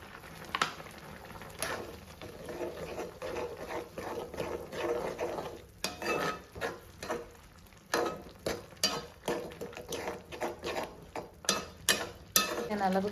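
A pot of tamarind curry with turmeric, chilli, coriander and Kashmiri chilli powders and salt bubbles up close, with rhythmic popping and spluttering bursts over a low simmer.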